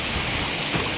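Steady rain during a cyclone, heavy and continuous with strong wind at a rural home, a dense close hiss with no voices.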